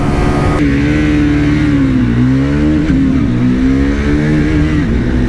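A Bajaj Pulsar NS400z drag racing a Triumph Speed 400 in fifth gear, heard as one loud, steady engine drone whose pitch climbs and wavers without a break for about five seconds.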